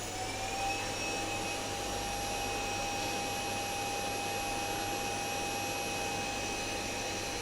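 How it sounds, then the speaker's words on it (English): A vacuum cleaner runs hard, giving a loud, steady, high-pitched whine and roar that holds unbroken for the whole stretch with no talking. "The vacuum's going hard now."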